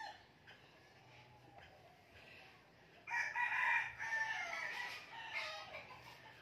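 A rooster crows loudly partway through, with hens clucking softly before and around it, close by and with no talk.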